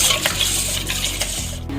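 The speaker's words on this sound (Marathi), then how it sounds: "याला 2-3 पाण्याने धुवूया" Rice is rinsed in water in a kitchen, with splashing and pouring that sloshes continuously and loudly close by, a few sharper swishes as the grains are stirred, and no voices.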